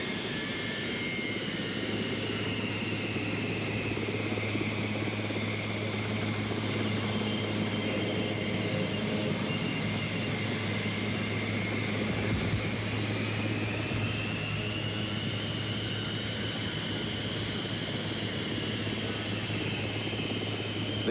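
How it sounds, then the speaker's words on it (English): A big presidential jet taxis away from the apron at Andrews: a loud, steady jet-engine roar with a high whine that rises and falls slightly, continuous throughout with no voices. "Now the big plane pulling away from the apron here at Andrews."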